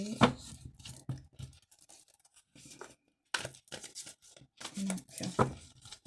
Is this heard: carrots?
no